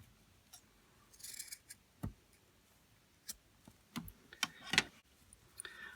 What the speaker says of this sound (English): I'm just going to cut off the extra material